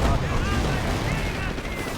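Battle noise from the strategy game Company of Heroes: a dense, continuous rumble of gunfire and distant explosions with rapid crackling shots layered throughout.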